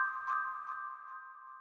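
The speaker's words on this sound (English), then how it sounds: "There's a mallet kind of delayed effect." A mallet-like drum kit accent hit with a delayed, echoing tail: a soft struck tone rings and repeats a few times, fading gradually, alone without talk.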